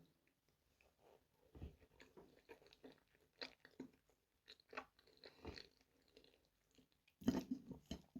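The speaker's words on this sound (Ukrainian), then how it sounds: "Ану, спробую котлетку без псіліума." A homemade cutlet made without psyllium or egg is eaten close up, with quiet, irregular crunchy bites and soft chewing spread across the stretch and a louder crunch near the end; no one talks.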